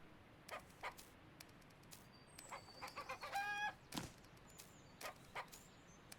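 Faint clucking from a chicken in the video game Do Animals Dream?, a few soft calls bunched near the middle over a quiet ambient background, with scattered small clicks and taps.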